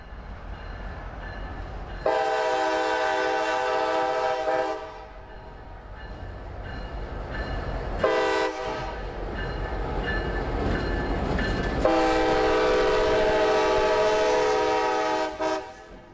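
Freight train Y191's locomotives running light engines only, a loud horn sounding in several long blasts over the steady rumble of diesel engines passing nearby.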